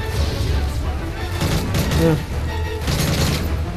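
Dense, continuous gunfire and grenade blasts from a Call of Duty: Modern Warfare 3 battle fill the clip, with loud bursts throughout and an excited voice shouting over the noise.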